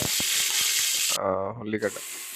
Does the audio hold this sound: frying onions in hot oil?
yes